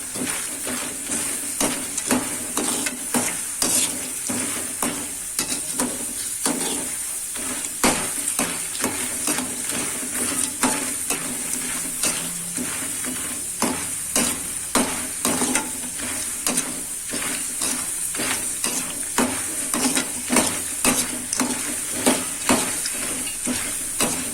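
Steady crackling and sizzling as harad (chebulic myrobalan) roasts and puffs up in a pan, with frequent scraping stirs, close and continuous throughout with no talking.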